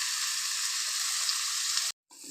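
Masala with green chilies frying in a pan, a steady, dense sizzle with no voices, cutting to silence near the end before resuming briefly.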